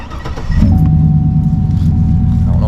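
A Chevrolet Silverado pickup with an upgraded air intake idles outdoors, a loud, steady low engine rumble that swells after a brief quieter start and holds a constant drone.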